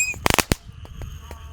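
A Thor tank wheeled firework goes off with a rapid cluster of loud sharp cracks, then a few sparser pops and a hissing tail.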